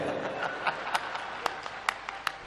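Handclaps from devotees at a Rudraksha festival gathering at Kubereshwar Dham, heard as a scattered run of distinct, fairly quiet claps over a low murmur.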